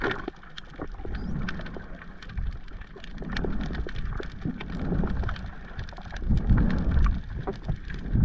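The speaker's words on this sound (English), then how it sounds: "So it's raining now, but it's still so beautiful." Rain patters around a boat in the Philippines, a steady, dense spatter of drops with heavier gusts and rumbles toward the end, with no talk.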